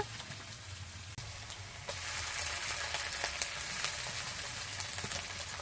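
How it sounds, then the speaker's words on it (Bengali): Garlic sizzles in hot oil in a pan for a Bengali country-chicken red curry, a steady crackling fry that grows louder and busier partway through, with no one talking. "রসুন ভালো করে ভাজতে হবে নাহলে রুসুন একটা কাঁচা গন্ধ রয়ে যায়"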